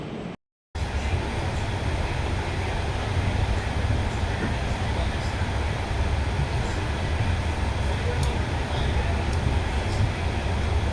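A passenger train rolls along with a steady, loud rumble and rattle heard from inside a carriage, continuous throughout after a brief dropout at the start.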